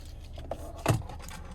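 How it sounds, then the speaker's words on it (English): A key fob with remote start for a 2027 Chevrolet Equinox RS is handled, giving a few faint, brief jingling clicks and one slightly louder rattle close by. "Finally, here's the key fob with remote start."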